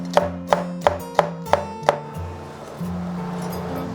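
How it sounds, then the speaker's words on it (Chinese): Six sharp knife chops on a cutting board as chili peppers are sliced into rings, evenly spaced at a steady rhythm, close and crisp, followed by quieter kitchen background. "再切一点小米椒圈，然后跟线椒圈"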